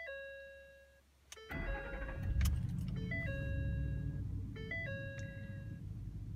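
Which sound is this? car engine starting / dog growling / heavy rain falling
car engine starting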